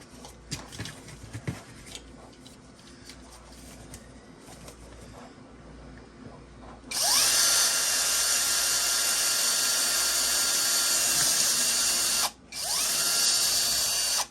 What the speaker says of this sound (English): we're gonna have to drill through this with this drill